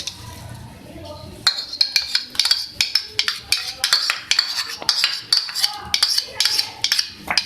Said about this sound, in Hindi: इसको आप अच्छी तरीके से फेंट लें।